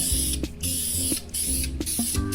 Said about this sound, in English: I know I'm spraying over the ceiling surfaces